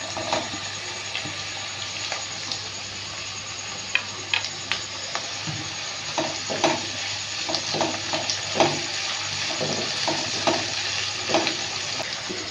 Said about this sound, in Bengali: এবার আমি টমেটো কুচিটা দিয়ে দিচ্ছি।